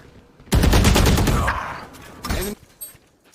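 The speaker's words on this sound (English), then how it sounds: "Shinobi then comes from behind with the Odin, just sprays him down" An Odin machine gun sprays a long, loud, rapid burst in a Valorant tournament match, with a shorter second burst trailing off into quiet.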